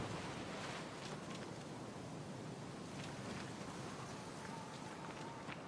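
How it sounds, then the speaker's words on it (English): Wind howls along a windy path in the video game Banishers: Ghosts of New Eden, a faint, steady broadband rush with soft gusting texture. "I can hear the wind howling"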